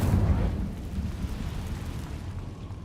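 An Incendio fire spell blast in the Hogwarts Legacy video game, a deep rumbling, roaring burst that swells loudly at the start and then trails off into a lingering low crackle.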